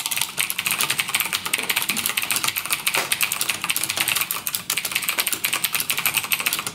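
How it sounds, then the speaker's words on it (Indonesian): Rapid, crisp clicking of an Argent K5 RGB mechanical keyboard with blue switches being typed on steadily and close up, with no voices. "untuk tombolnya sama seperti karakter blue switch pada umumnya"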